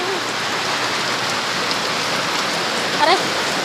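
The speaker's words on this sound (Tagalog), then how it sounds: "Ang lakas ng ulan." Heavy rain pours steadily, a dense unbroken hiss of drops on surfaces, with a brief faint voice near the end.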